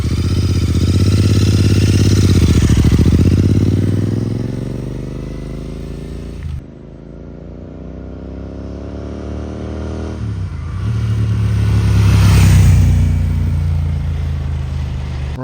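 A modified Royal Enfield 650 motorcycle, either a Classic 650 or an Interceptor 650, passes close by with a loud engine that rises as it approaches. It shifts gear twice while riding away and fading, then swells again as it returns.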